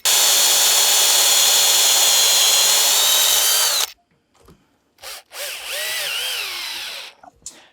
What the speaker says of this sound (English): insert our sheet metal screw, stainless steel sheet metal screw.